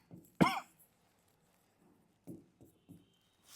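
A teacher coughs during a science class: one sharp, loud cough burst near the start, followed later by a few softer, shorter coughs or throat-clearing sounds spaced apart, with quiet between them.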